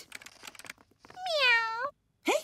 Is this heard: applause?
no